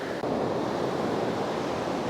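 Small ocean waves wash steadily onto a beach on the Great Ocean Road at sunrise, a continuous broad rushing surf with no distinct breaks and no voices.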